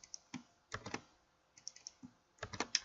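Computer keyboard keys pressed to copy and paste with shortcuts, giving sharp, close clicks in small uneven clusters separated by short quiet gaps.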